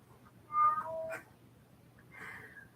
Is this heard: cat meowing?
yes